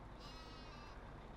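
A single short sheep bleat from the video game Farming Simulator 17, faint over a steady background hum.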